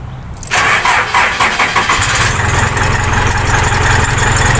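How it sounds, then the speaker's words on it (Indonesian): A car engine is started, with a brief click and then the starter cranking before the motor catches and settles into a loud, steady idle close by. "Oke teman-teman, mesin sudah menyala."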